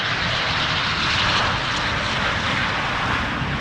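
Steady broadband roar of an Embraer 190 jet airliner at an airport, a continuous loud engine drone with no voices, even in level throughout.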